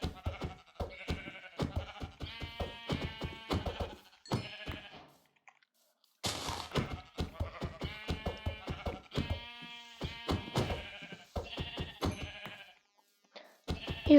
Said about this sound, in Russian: Ломать овец.